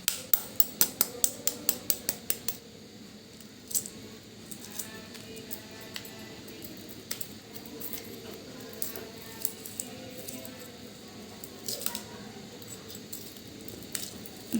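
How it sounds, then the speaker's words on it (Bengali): Shell of a hot boiled egg being peeled with a spoon, a quick series of small sharp clicks and taps at first, then sparser scrapes and clinks, close and quiet with no voices. "চামচ দিয়ে ছিলে নেই।"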